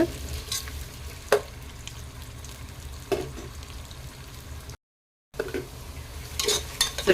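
Three sliced large onions sauté in a pan for mushroom biryani, a steady soft sizzle broken by a few sharp scrapes and knocks of a spoon stirring, briefly cutting out before resuming.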